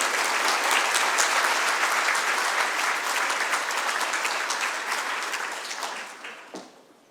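An audience claps for theme park partners at a Central Florida theme parks update, sustained applause that slowly fades and trails off near the end.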